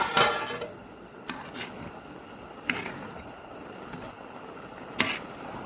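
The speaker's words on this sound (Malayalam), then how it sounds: "തുറന്നൊന്ന് ഇളക്കി കൊടുക്കാം." A metal lid clanks off a pot of avial, vegetables cooked in curd over low heat, then a spoon stirs with a few sharp knocks against the pot over a faint steady hiss.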